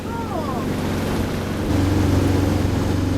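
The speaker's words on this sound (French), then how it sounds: "Évidemment, on fait du moteur." A steady sailboat engine motoring drones under wind and water noise on the North Carolina waterway, growing slightly louder and deeper partway through.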